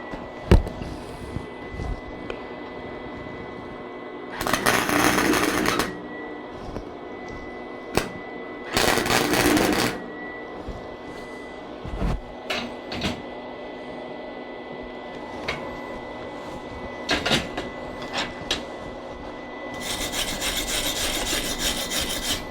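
Flux core wire welding: three bursts of harsh, crackling buzz, each lasting a second or two, separated by quieter stretches with scattered ticks and handling noises.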